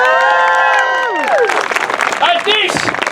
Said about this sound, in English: And Antony and the soothsayer sit down with thunderous applause.